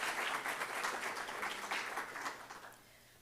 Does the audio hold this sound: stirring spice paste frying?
no